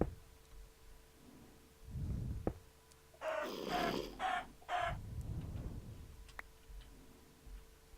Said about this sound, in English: How did I get a chicken in there?